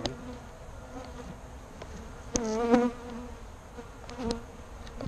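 Saskatraz honey bees hum steadily around a hive two weeks after a package install, a close, moderate drone with a few louder passing buzzes and brief rises partway through.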